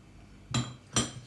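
A spoon clinks twice against a dish or container while turmeric powder is portioned out, two short bright metallic taps close to the microphone, about half a second apart, with quiet room tone between.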